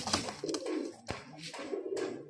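Male and female pigeons coo up close, with two soft, low, rolling coos separated by a brief pause and a few light clicks and rustles.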